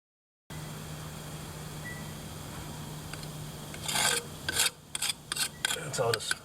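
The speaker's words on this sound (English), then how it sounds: "I need to clean up this fitting here with this wire wheel" A wire wheel scrubs rust off an old metal sewer pipe fitting in a house basement, coming in as several short, loud rasping bursts of uneven length after a steady low hum and quiet stretch.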